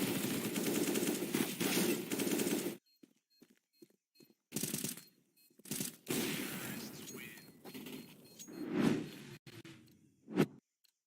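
Rapid pistol shots ring out in a Counter-Strike match, a loud dense burst of gunfire for the first few seconds, then scattered sharp pops and short bursts with quiet gaps between them.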